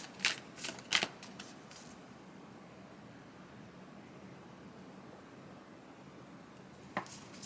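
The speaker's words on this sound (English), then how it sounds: "What's not refreshing is me getting an arm workout shuffling these cards" Tarot cards are riffled and shuffled in a few quick crisp bursts near the start, then a long quiet stretch and one more brief flick at the end.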